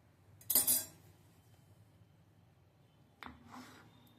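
A knife cuts through baked batti, the dough balls of Dal Batti, with two separate short crunchy strokes about three seconds apart. Each is close and clear against a quiet background.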